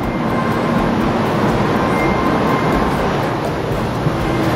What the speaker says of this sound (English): The high-speed train.